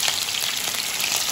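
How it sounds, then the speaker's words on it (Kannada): Spices sizzle in hot oil during tempering for a vegetable dish, a close, dense crackling hiss with small pops, steady throughout. "ಒಗ್ಗರಣೆ ಕೊಡೋದು"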